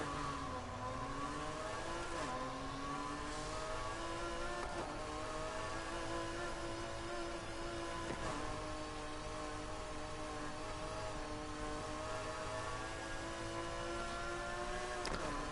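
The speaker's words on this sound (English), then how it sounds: "Oh, he's an old BMW." An old BMW car in the Need for Speed Heat video game, its engine droning and revving in steady rising and falling tones over a continuous hum, with no talk.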